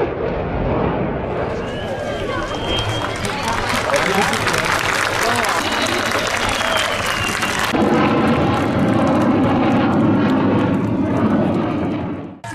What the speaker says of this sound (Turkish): F-16 savaş uçağıyla yapılan akrobatik hareketler nefes kesti.